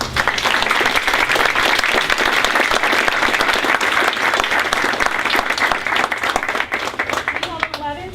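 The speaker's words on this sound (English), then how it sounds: "I'd like to give you guys a round of applause" An audience at an Exeter Township school board meeting applauds students in a sustained, dense round of clapping that holds steady throughout and starts to fade at the very end, with a voice briefly audible as it dies down.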